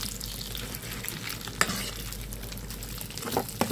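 Vegetables for a chicken pansit sauté in a pan, giving a steady close sizzle with scraping stir sounds and a few sharp clinks from a utensil against the pan, with no talking.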